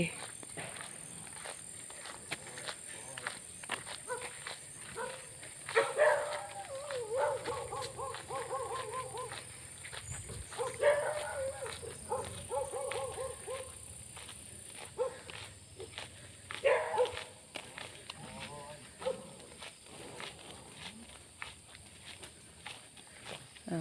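Dogs bark at each other outdoors on a walk through lush greenery, a few short bursts of barking spaced several seconds apart over quiet background rustle and footsteps.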